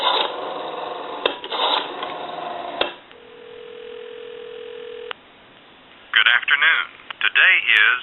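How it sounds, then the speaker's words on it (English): A rotary wall telephone line gives a steady dial tone for a couple of seconds between clicks and handset clatter, then a recorded time-and-temperature announcement voice comes through the earpiece. "give you some dial tone"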